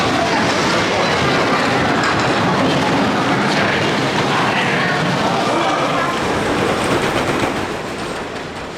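The Big Dipper wooden roller coaster at Blackpool Pleasure Beach running one train, a loud continuous rumbling roar with rattling clatter that fades slightly at the end, heard alongside people talking.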